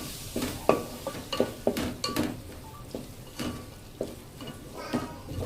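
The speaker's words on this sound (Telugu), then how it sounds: "గరం మసాలా అన్నీ వేసింటే ఒకసారి మిక్స్ చేసుకోవాలి." Garam masala and biryani masala being stirred into egg biryani in a home kitchen pan, with a series of soft scraping and clinking spoon strokes against the metal, light sizzling beneath, close and moderately quiet.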